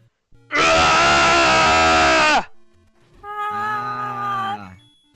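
A man gives a loud, sustained strained scream imitating Wario from N64 Mario Party, followed after a short pause by a second, quieter wavering cry.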